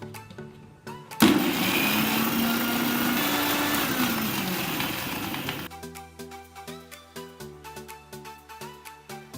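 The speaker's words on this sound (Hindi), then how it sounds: "ब्लेंड कर लेंगे" A blender whirs loudly for about four seconds, blending water and ice for Punjabi lassi, then cuts off, leaving a rhythmic background beat.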